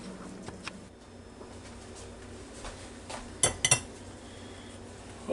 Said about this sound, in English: Now I'm going to take them right out of this pot and set them on this plate over here.